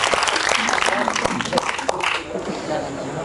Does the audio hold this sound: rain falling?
no